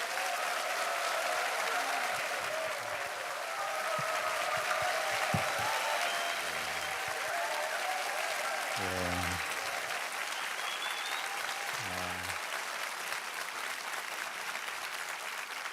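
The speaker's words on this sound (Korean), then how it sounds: "이렇게 박수를 받으니까" Church congregation applauding warmly at a summer revival meeting, a steady wash of clapping from a large crowd that fills the room, with a few low voices heard faintly underneath.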